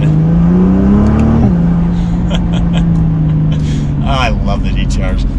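A 2020 Nissan GT-R 50th Anniversary engine and exhaust climb in a short rising rev, then drop abruptly to a steady, loud lower drone that holds close by.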